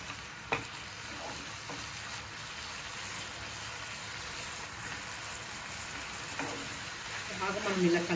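Carrot halwa simmering in milk is stirred with a spoon, giving a soft, steady bubbling sizzle with occasional scrapes and clicks, growing slightly busier near the end.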